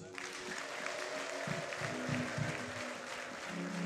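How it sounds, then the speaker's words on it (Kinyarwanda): A crowd at an outdoor stadium prayer service claps for God, a dense, fairly distant wash of applause lasting throughout with a low hum beneath. "kuki mudakomera Imana amashyi"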